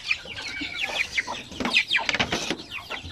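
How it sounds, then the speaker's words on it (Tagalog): Full-grown chickens cluck and squawk close by in a backyard flock, with busy overlapping calls and no talk. "ng ating mga malalaking manok."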